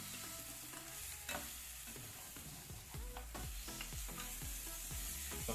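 Marinated goat meat browning in a pot for Jamaican-style curry goat, with a steady sizzle and repeated scraping stirs of a spoon against the pot, close and fairly quiet, no voices.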